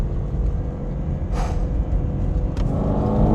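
A Ford Shelby Mustang GT500 accelerates hard near the top of second gear in a drag race against a BMW M4 Competition, its engine a loud, steady roar with a brief rising whoosh midway and a sharp burst near the end.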